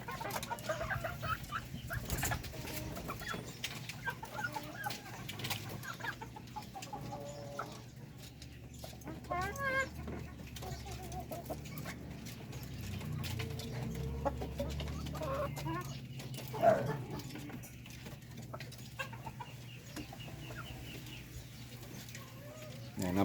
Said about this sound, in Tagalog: Sige nga, bago pa lang itong mga hen natin na to.